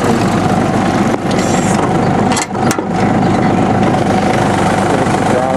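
A John Deere F1145 diesel mower engine runs steady and loud, throttled up into a constant rumbling drone with a couple of brief dips, while someone talks nearby.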